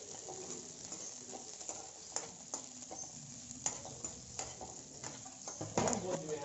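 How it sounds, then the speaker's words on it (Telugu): Onions and green chilies fry in a pan with a steady soft sizzle, broken by intermittent light stirring clicks and scrapes, close-up and quiet. "కొంచెం ఫ్రై అయిన తర్వాత ఆనియన్స్ అనేది లైట్ ఫ్రై అయిన తర్వాత ఈ పచ్చిమిర్చి అనేది కూడా యాడ్ చేసుకొని బాగా"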